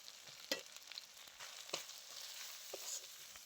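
Ground spices, chili, turmeric, cumin and coriander, frying with onion and ginger paste in a pan: soft continuous sizzle with occasional stirring scrapes and spoon taps, close but quiet, no talking.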